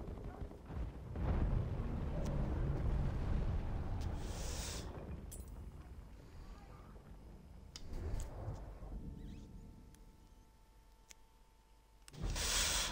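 A grenade going off in a video game, a heavy thunderous boom that rolls and fades, with more rumbling blasts following and a final loud burst at the end, and a voice speaking in between.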